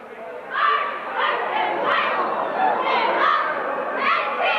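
Crowd of students and adults in a high school gym during a boys basketball game, a loud continuous swell of shouting and cheering voices, fairly close and filling the room, with no clear single speaker.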